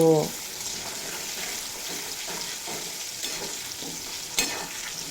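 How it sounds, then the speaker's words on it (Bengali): Potato pieces seasoned with salt and turmeric fry in hot oil, making a bright, even sizzle close by with repeated stirring scrapes and a sharper clack near the end. "দিয়ে দেব স্বাদ মতো লবণ আর পরিমাণ মতো হলুদের গুঁড়ো দিয়ে খুব ভালোভাবে ভেজে নেব"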